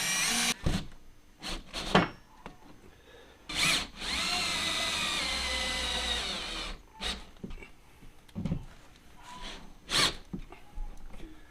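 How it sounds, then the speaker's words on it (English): A drill drives a 7/16 lag bolt into a wall stud for a hose reel bracket, heard as a sustained whine of about three seconds, with short bursts and clunks of handling before and after it. "I'm just going to go ahead and screw that into the stud."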